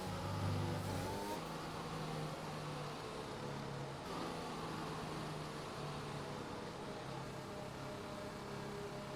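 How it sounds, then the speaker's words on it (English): A Formula 1 car in the F1 2021 video game revs hard on the grid before the race start, doing a burnout to warm the rear tyres: a loud, steady, high-pitched engine drone with shifting tones and no talk. "Bit of burnout there, get the rear tyres ready."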